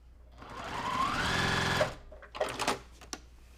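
A sewing machine stitches a quilt block with a close, steady mechanical whir that lasts nearly two seconds. It then stops, followed by a few light clicks and handling knocks.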